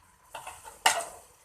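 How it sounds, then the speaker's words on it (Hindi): Potatoes dropped into spices in a cooking pan for a runner bean curry, giving a few light clinks and then one sharper clatter and sizzle, close and short. "और फिर इसमें मैं पोटैटो ऐड कर दूंगी।"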